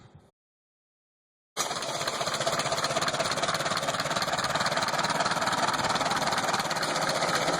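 A 1953 Case VAC tractor engine set up to drive a buzz saw fires up after a short silence and settles into a loud, close, steady chugging run.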